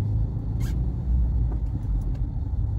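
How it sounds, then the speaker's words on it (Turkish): Heavy road traffic rolls past in a continuous loud rumble of car engines and tyres, steady throughout with a brief higher hiss from a passing vehicle, no talking. "Burada çok trafik oldu."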